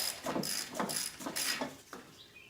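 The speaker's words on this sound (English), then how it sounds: "we're gonna switch our ratchet over to tighten. We're gonna tighten back up that nozzle all the way" A ratchet tightens the oil drain nozzle on a John Deere zero-turn mower, giving a few quiet, rhythmic clicking bursts at a close distance, spaced roughly every half second before tapering off.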